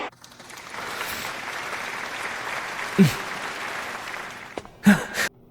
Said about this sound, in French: Applaudissons-le, tout le monde.